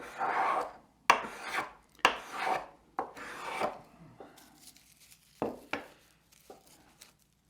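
A Jorgensen 102 low angle block plane shaving wood in several rasping strokes, the first few long and strong, later ones shorter and lighter, close and distinct with quiet gaps between.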